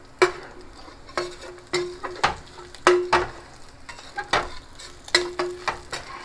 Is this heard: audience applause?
no